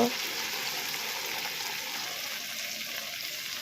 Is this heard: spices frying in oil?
yes